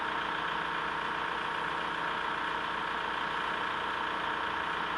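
A car engine idles steadily and close by while the EGR system is being checked, a constant loud even hum with no change in pitch.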